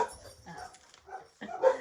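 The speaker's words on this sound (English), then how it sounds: "Those are my dogs." Several dogs bark and yip indoors in short bursts with gaps between, a louder flurry closing the sequence.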